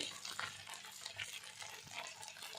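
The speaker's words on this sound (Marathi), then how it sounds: "आता मिक्स केलेल्या भाजीला आपण थोडं तेलामध्ये फ्राय करून घेणार आहे" Chopped mixed vegetables with spring onion and ginger-garlic paste fry in a little oil while being stirred, a soft continuous sizzle with scraping stir strokes, close and without talk.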